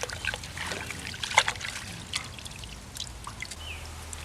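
Water from a hose or tap trickling and splashing as dirt is washed off the roots of a struggling tomato plant, a soft, steady patter close by with a few brighter splashes and no talking.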